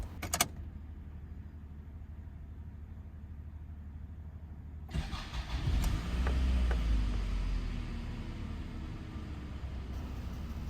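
A car engine, just repaired with a replacement timing chain cover to fix an oil leak, cranks and starts about halfway through after a quiet stretch, then settles into a steady, close low idle rumble with no talking.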